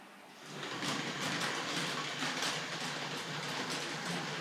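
A Tri-ang Hornby R.754 M7 model tank locomotive pulls SR coaches along a layout track, giving a steady, close rolling rumble with rapid clickety-clack wheel rhythm throughout.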